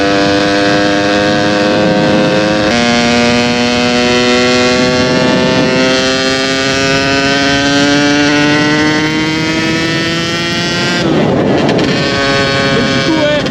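A 50cc moped engine, rebuilt with split and reassembled crankcases, revs steadily and climbs in pitch as the bike rides down straight stretches, with wind buffeting the microphone and a brief shift change partway through.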